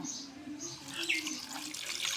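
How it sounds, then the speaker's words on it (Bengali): Water pours in a steady splashing stream into a cooking pot close by, fairly soft and continuous. "এবার আমরা পানি দিয়ে দিব"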